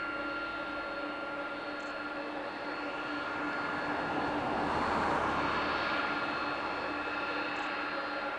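A converted Boeing 737-800 cargo jet at East Midlands Airport gives off a steady engine roar that swells gently midway, a broad sustained hum heard from a distance with no voices.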